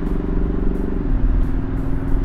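Engine note of a 2021 Ford Mustang EcoBoost Premium Convertible at about 2,500 RPM, artificially piped through the cabin speakers, heard as a steady humming drone whose pitch dips slightly midway, with no talking.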